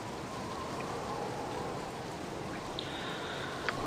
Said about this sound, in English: What a miserable rainy day in the city